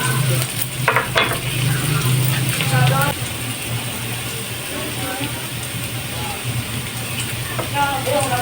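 Garlic and onions sautéing in a pan for pork and string beans cooked in coconut milk, a steady close sizzle with clinks of utensils, joined by a voice speaking over it.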